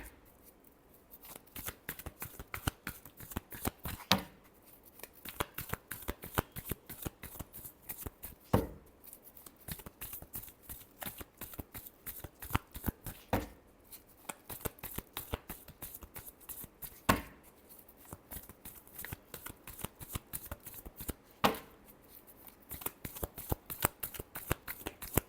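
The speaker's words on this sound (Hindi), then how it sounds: "last shuffle" A deck of tarot cards is shuffled by hand again and again, giving quick crisp riffling bursts and soft taps in a steady uneven rhythm, close and fairly quiet throughout.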